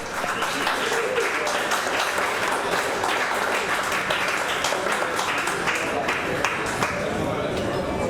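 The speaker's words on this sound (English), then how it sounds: "Give her a big round of applause." Crowd applause for a female contestant knocked out of a chilli eating championship heat in New Zealand, a steady dense clapping that runs the whole time with chatter and voices mixed in.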